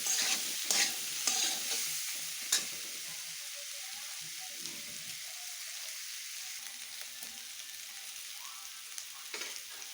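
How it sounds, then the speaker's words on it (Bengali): Jackfruit pieces fry in a pan with turmeric powder and salt, a soft steady sizzle under scraping stirs and light clinks near the start that settle into quieter frying. "হলুদ গুঁড়ো, একটু লবণ, দিয়ে একটু লাল করে ভেজে নেব।"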